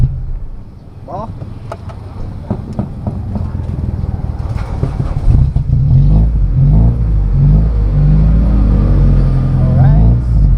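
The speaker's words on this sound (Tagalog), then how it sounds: "painitin lang muna natin yung makina bago tayo umalis." A car engine warms up before driving, a steady low rumble up close with clicks and knocks early on, growing fuller and louder midway, with people talking over it.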